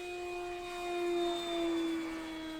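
The electric motor and propeller of an Eachine Airloader 1280mm RC bush plane, run on 4 cells, whine at full throttle with a steady high-pitched drone that swells slightly as it passes close.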